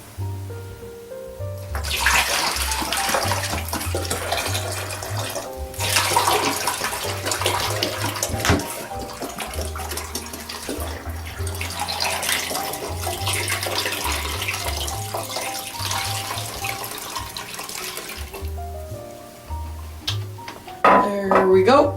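Running water pours from a tap into a two-liter bottle with a steady, loud gushing rush for most of the span before easing off near the end, and no one speaks.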